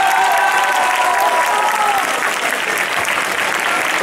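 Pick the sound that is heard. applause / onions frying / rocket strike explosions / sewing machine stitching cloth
applause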